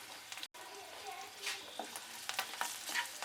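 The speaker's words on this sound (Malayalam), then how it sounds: "ഇതിലേക്ക് വീണ്ടും 1/2 സ്പൂണ് മുളക് പൊടി കൂടി ചേർത്ത് കൊടുക്കുകയാണ്." Half a spoon of chilli powder sizzles in a hot pan of oil for an Egg 65 snack, with a steady crackling hiss and a few scraping stirs. There is a brief dropout near the start.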